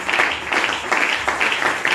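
Church congregation clapping in steady rhythmic bursts, a full, fairly loud round of applause with faint voices mixed in.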